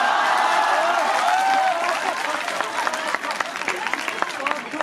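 An audience at a Hindi poetry recital applauds, with many hands making a dense crackling wash that grows and carries on while a voice speaks at first.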